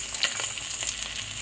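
Two parshe fish frying in leftover oil in a pan, giving a dense, steady sizzle close by with small crackling spikes throughout.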